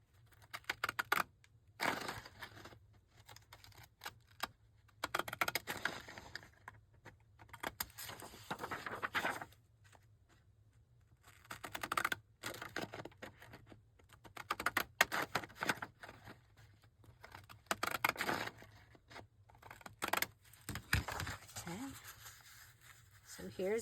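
Decorative-edge craft scissors snip through cardstock nearby in quiet bursts of sharp, crisp clicks and crunches, separated by short silent gaps.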